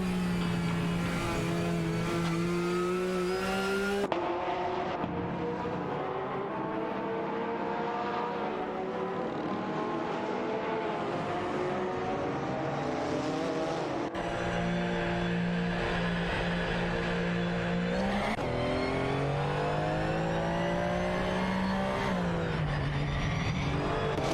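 Race cars engines roaring and revving continuously during overtakes in a race, several whining engine tones rising and falling as cars pass, loud and unbroken throughout.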